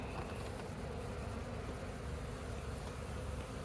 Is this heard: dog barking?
no